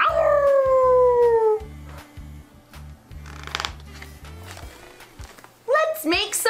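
A voice imitates a pack of animals howling and then growling, with long wavering howls first, a rough rumbling growl, and a few shrill yelps at the end, close and loud over a children's song backing.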